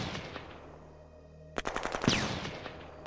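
Gunfire in the strategy game Shadow Empire, a rapid burst of sharp shots followed by a whooshing projectile after a quiet start, moderately loud with no talking.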